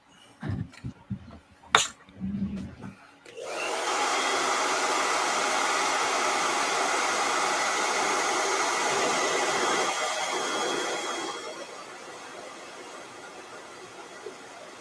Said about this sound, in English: Let me hit this with a blow dryer.